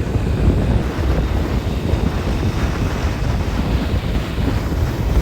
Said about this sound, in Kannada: ಭಾಳ ಗಾಳಿ ಐತ್ರಿ, ಏನು ಮಾತಾಡೋಕ್ಕಾಗಲತ್ತಿಲ್ರಿ